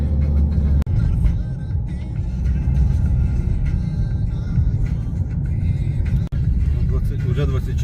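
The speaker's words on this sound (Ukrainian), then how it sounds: "Снігоприбиральна машина їде." A snow plow drives past on a frozen winter road, a loud continuous engine rumble and road noise that swells through most of the stretch, with faint talk underneath.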